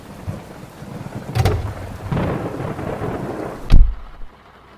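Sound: heavy rain and thunder

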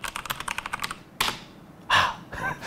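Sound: typing on 1STPLAYER DK5.0 RGB mechanical gaming keyboard

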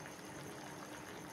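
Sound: water boiling in a pot of aviyal vegetables

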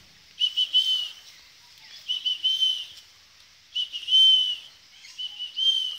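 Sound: person whistling to call lorikeet parrots

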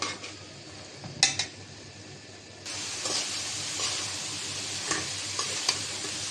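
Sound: sautéing curry with taro and chicken bones in a pan

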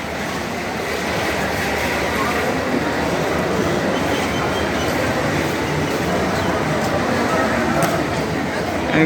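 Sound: train entering a station platform

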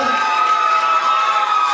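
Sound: audience applauding and cheering at a cultural show

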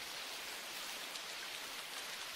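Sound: rain falling, anime sound effect

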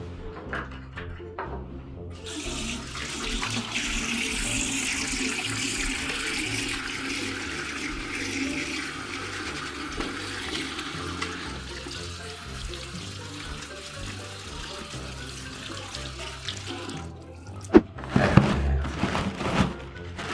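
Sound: washing hands under running tap water

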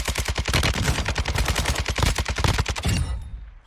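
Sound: sniper rifle gunfire in a video game

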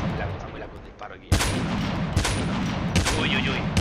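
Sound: gunfire in a video game

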